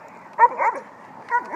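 A dog barks and yips in two short bursts close to the microphone, with a brief gap between them, on an outdoor walk.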